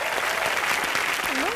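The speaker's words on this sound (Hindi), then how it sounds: "अकबर, अनारकली और सलीम के लिए जोरदार तालियां हो जाए।" Studio audience on a live comedy show bursts into sustained, loud applause, a dense continuous wash of clapping filling the whole moment with a brief voice faintly underneath.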